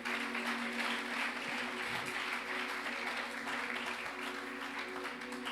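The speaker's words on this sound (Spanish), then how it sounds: "Dele un aplauso al Rey" A church congregation claps during a Spanish-language sermon, a dense, steady wash of applause from a large room with a low hum underneath.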